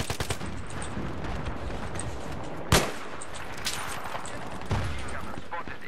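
MG36 machine gun fire in the video game Battlefield 3 rattles in quick bursts, with a sharp loud shot near the middle and scattered distant gunfire around it.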